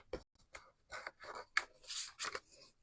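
Scissors cut through cardstock for a handmade card, making several close, rasping snips in an uneven rhythm that grow brighter and fuller toward the end.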